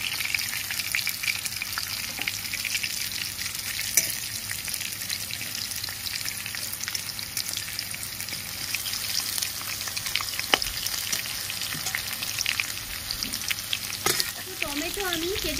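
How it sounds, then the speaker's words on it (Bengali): Bay leaves, a dried chilli and whole cumin crackle and sizzle in hot oil, a steady loud frying hiss with occasional sharper pops and spatters, no voices. "তেলের মধ্যেই আমি দুটো তেজপাতা, একটা শুকনো লঙ্কা, গোটা জিরে ফোড়ন দিয়ে দিচ্ছি।"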